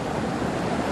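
Rushing water flows continuously beneath Disneyland's Splash Mountain ride, some of 500,000 gallons pumped around the flume. It makes a steady, dense, broadband roar with no pauses.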